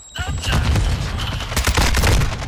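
Loud, dense gunfire from a Call of Duty multiplayer match, rapid overlapping shots and booms crowding a short stretch with game noise throughout.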